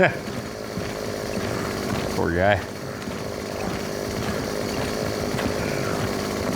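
A chainsaw bayonet revs and tears into an enemy in Gears of War 4, a rough buzzing grind with a brief rising whine, heard under spoken commentary.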